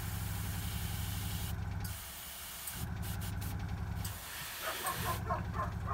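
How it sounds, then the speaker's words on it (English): An airbrush sprays paint in bursts of airy hiss over a constant low compressor hum, the spray stopping and restarting several times, close and steady. "let's just set the pressure back up, and I'll just have to rely on superior airbrush skills."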